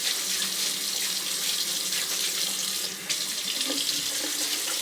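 A tap runs steadily into a sink to wet the face before shaving, a loud, close, continuous splashing rush with a brief dip near the middle as hands move through the stream.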